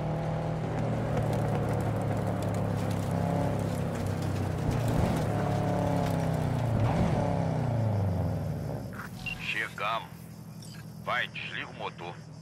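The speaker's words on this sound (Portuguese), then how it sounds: "Vai, desliga o motor." A car engine idling steadily in Cyberpunk 2077, a low humming drone under speaking voices that cuts off near the end, leaving only talk.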